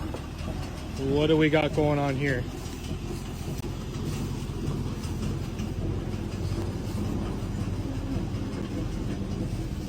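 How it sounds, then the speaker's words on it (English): A steady low rumble of an old train rolling along the rails fills the clip, with a voice speaking briefly near the start. "he found an old train moving by itself"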